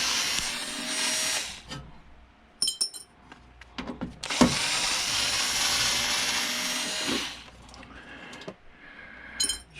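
A power driver whirs in long bursts as screws are backed out of a flat-screen TV being dismantled for scrap, with clicks and small clatters of parts and hardware between the runs.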